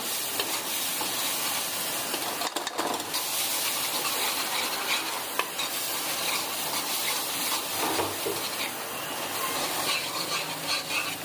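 Chana dal roasting in a pan: a loud, continuous sizzling hiss with occasional scraping stirs, steady throughout with no voices.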